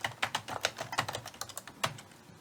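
Rapid, uneven clicks of computer keys being typed, close and fairly quiet, with brief pauses between bursts and no talking.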